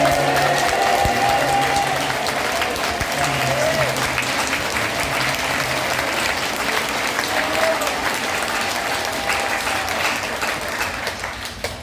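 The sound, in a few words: church congregation clapping loudly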